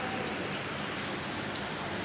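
Rain falls steadily on the streets of Dhaka city, a dense, even hiss that fills the whole stretch without pause. A few faint ticks of drops sit on top of the wash.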